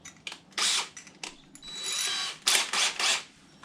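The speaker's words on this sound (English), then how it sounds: "I'm going to go ahead and drill a hole." An electric drill with a spade bit whines in several bursts, revving up and boring a hole for a door knob striker with a steady grinding hum, close and loud, with short pauses between runs.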